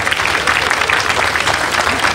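A crowd at a 1988 Britain's Strongest Man event applauds in a steady, dense burst of clapping throughout, with no voices over it.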